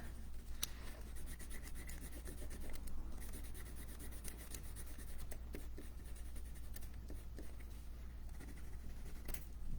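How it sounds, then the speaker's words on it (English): Colored pencil scratching and rubbing on paper while skin tones are colored in, a faint, close, continuous scribbling with quick strokes and occasional taps, no talk. "I'm using colored pencil for my skin color."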